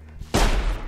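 Gunfire from the video game Sir, You Are Being Hunted: a sudden loud blast after a quiet start, its noisy roar filling the rest of the brief moment.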